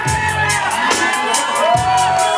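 Wedding reception guests cheering, whooping and shouting loudly together, with a dense crowd roar and high-pitched yells rising over it.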